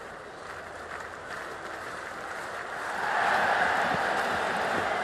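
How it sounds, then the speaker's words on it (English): A stadium crowd roars in the Cricket 26 video game, a broad, steady wash of cheering and applause that swells louder partway through, with no distinct voices standing out. "The crowd are making a heck of a lot of noise, even before the first ball's been bowled."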